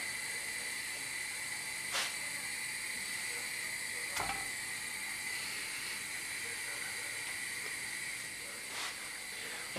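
Breaded President mould cheese sizzles in a pan with a small drop of oil, a steady close hiss of frying with a few faint clicks and no talking.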